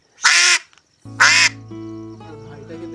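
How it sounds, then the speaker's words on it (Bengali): A duck quacks twice, loud and close, each call a short harsh burst, with a musical tone rising in the background after the second quack. "ভাই আর প্যাক প্যাক করিস না"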